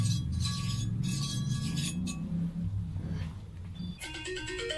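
A mobile phone ringing indoors in a workshop while oil is spread on a gasket surface, bright repeating electronic chime bursts, fairly loud and close, with stops and a fresh rapid ring pattern at the end.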